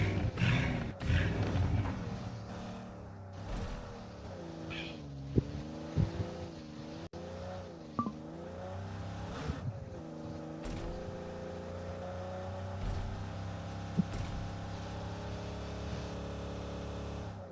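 A vehicle drives in the mobile battle royale game BGMI, its engine droning and shifting pitch as it speeds along, with a few sharp knocks and thumps, fairly quiet throughout.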